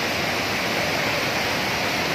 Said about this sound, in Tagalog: Ito yung pinaka-falls niya.